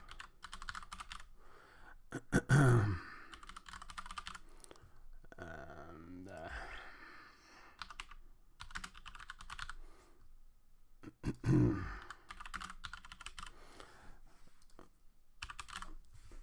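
Quiet, close computer keyboard typing in short bursts of soft key clicks, with a couple of brief louder thumps and pauses between runs of keystrokes.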